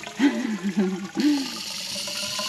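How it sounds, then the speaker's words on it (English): Fresh water runs into a sailboat's water system, a close gurgling and splashing flow, after a voice speaks briefly over it. "Filling the system with fresh water."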